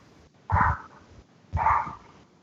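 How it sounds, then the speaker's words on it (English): Two short, sharp dog barks about a second apart, moderately close, with a quiet pause between them. "is there any way you can make the dog stop barking, Kevin?"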